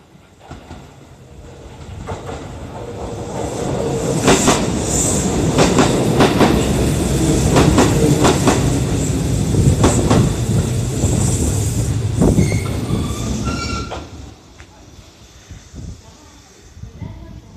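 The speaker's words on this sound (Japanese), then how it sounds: "名古屋行きの普通電車が3両編成で参りま す" A Kintetsu 2800 series three-car local train bound for Nagoya rolls into platform 4 at Shiroko station, a loud rising rumble with rhythmic wheel clacks and brief squeals that fades as it slows to a stop.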